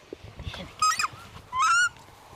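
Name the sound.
takahē birds calling while being caught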